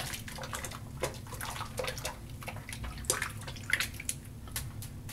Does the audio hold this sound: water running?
yes